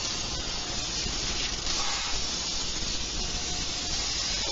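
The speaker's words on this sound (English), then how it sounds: "I'm going to take my nonstick cooking spray and spray my pan that I have lined with aluminum foil" Nonstick cooking spray hisses steadily from a can onto a pan lined with aluminum foil, a continuous close broadband spray lasting several seconds with no talking.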